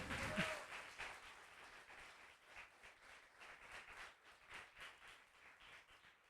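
Church congregation applauding during a Sunday sermon, soft, uneven clapping with rhythmic bursts that rise and fall, quiet and somewhat distant.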